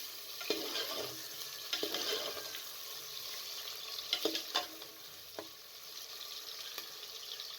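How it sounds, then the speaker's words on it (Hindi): Onions sizzling and crackling in hot oil, with a few sharp stirring clinks and scrapes breaking through the steady hiss. "जैसे ही ऑयल गर्म हो जाए तो आपने इसके अंदर प्याज को शामिल कर देना है।"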